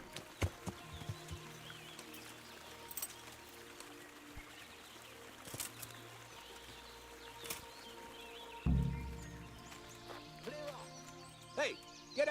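Horse hooves clop sparsely and irregularly in the medieval video game Kingdom Come: Deliverance. The soft, scattered clops sit over a quiet outdoor ambience with faint birds and water.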